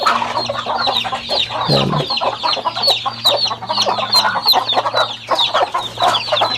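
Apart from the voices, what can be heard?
Rhode Island chickens clucking in a coop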